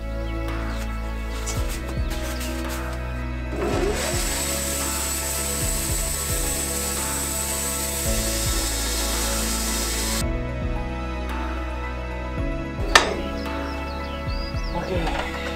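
A sawmill cuts a log of near-maximum diameter, making a sustained whining, grinding saw noise with mechanical clanks and ratcheting, and a sharp knock near the end; a voice is heard briefly in the background.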